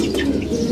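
Pigeons cooing inside a loft during a spell of intense summer heat, a soft, steady low murmur filling a brief moment at close range with no voices over it.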